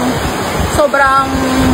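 Sea waves wash along the shore in a steady broad rush, close and continuous, with a person talking over them partway through.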